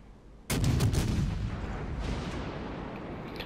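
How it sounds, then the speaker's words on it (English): A warship's gun volley fires in the naval video game World of Warships Legends, one sudden loud boom that then rolls and rumbles away over the next few seconds, with no talking. "I'll get that volley of HE out and I'll switch to AP."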